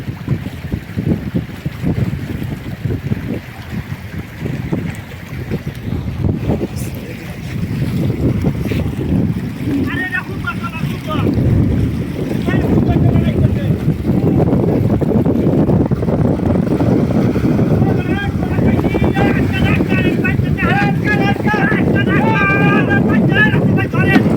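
A trawler that has broken its mooring rope under tidal pressure drifts toward a dredger. Steady wind buffets the microphone over a low rumble of moving tidal water, growing louder and rougher partway through, with faint, indistinct voices in the background.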